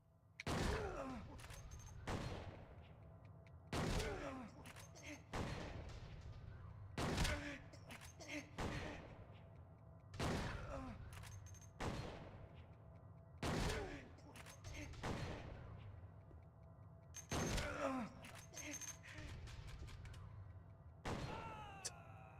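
Repeated gunfire exchanged in Silent Hill 2, with sharp shots and thuds recurring every couple of seconds in short bursts, steady and fairly loud throughout.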